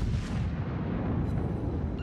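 Ship secondary guns firing in World of Warships, a Scharnhorst battleship battle, heard as a dense, continuous rumble of booming shots and blasts that stays loud and steady throughout with no pauses.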